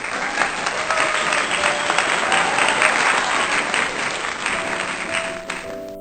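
A small group claps steadily for a child swinging on a park swing, even close-up applause lasting several seconds before tapering off near the end.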